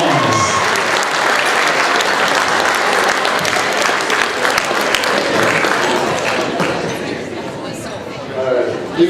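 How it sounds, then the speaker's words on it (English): A wedding reception crowd applauds loudly for an introduced speaker, dense steady clapping with background chatter that fades slightly near the end. "Let's give Nick a big round of applause."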